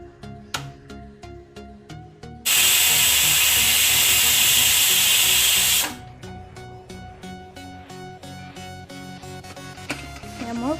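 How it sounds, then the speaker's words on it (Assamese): A pressure cooker whistles loudly while chicken cooks in it, one long steady hissing blast lasting about three seconds, with clattering kitchen sounds before and after it. "মোৰ কুকাৰৰ চিটিটো গৈছে"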